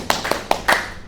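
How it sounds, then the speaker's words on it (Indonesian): Children in a third-grade classroom clap hands in four quick, sharp bursts, close and fairly loud, with no talking. "Tepuk tangan,"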